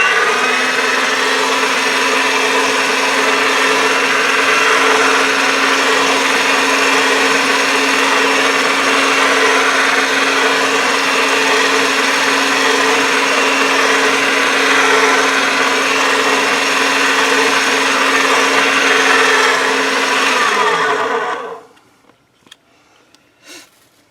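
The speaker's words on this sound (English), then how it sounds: "Then you can roll this through a pasta machine." Polymer clay cane slices rolled through a hand-cranked pasta machine, a steady loud whirring grind running continuously for about twenty seconds before stopping abruptly, followed by a few faint clicks.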